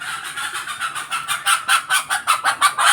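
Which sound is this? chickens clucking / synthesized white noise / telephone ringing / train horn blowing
chickens clucking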